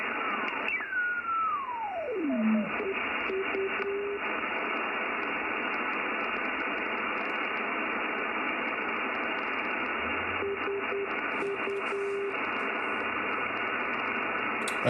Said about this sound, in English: You can hear it swapping the filters, front end filters over there.